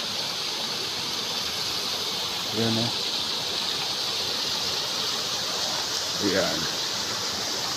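Clear mountain-fed water flows at an inland resort in Canlaon City, Negros Oriental, making a steady, even rush that fills the whole scene, with someone speaking briefly twice over it.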